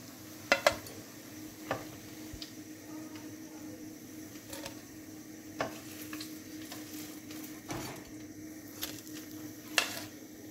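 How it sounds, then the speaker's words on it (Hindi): Potato cheese rolls frying in hot oil, a soft steady sizzle with scattered clinks and stirring knocks from a utensil in the pan, fairly quiet and close. "और हम इसी तरह बाकी रोल भी फ्राई कर लेंगे।"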